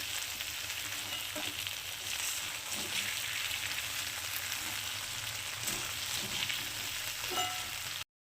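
Mushrooms frying in oil in a pan over a high gas flame, giving a steady close sizzle with soft crackles and occasional stirring clicks throughout, no voices.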